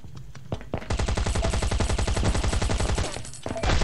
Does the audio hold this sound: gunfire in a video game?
yes